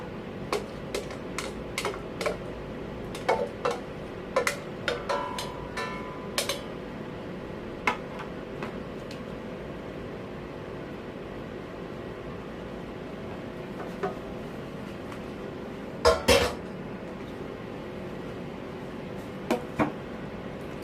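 A utensil stirs papaya pickle (atchara) sauce in a container, producing intermittent light clinks and scrapes in small clusters, separated by quiet gaps, with a louder burst of knocks near the end.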